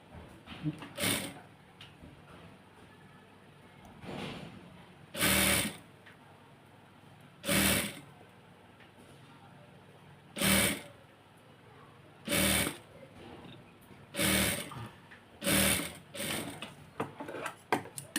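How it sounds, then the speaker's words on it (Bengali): Sewing machine stitching lace onto a kameez, running in short separate bursts of a few seconds each with quiet pauses between, close and clear. "এখন এটাতে আরেকটা সেলাই দিয়ে দিব সাইড দিয়ে"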